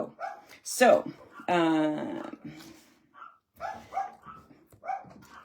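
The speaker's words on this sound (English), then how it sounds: "sorry about my dogs." Dogs bark indoors at close range in two loud, sharp bursts early on. A person talks steadily over and around the barking.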